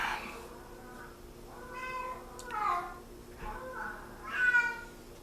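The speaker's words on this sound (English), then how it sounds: "Don't mind the cat" A female house cat meows repeatedly nearby, several drawn-out, wavering cries spaced a second or so apart, with a quieter, more plaintive call at the end and faint background hum.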